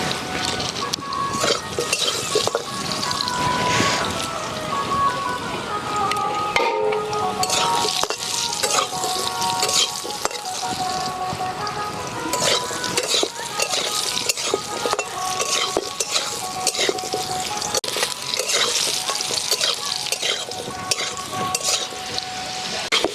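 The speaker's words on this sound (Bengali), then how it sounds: "কষগুলো ভালোভাবে ভেজে নিচ্ছি।" Chicken pieces fried with turmeric in a pan over an outdoor bamboo fire: loud, continuous sizzling and crackling with frequent metallic scraping and stirring against the pan, close up throughout, with no talking.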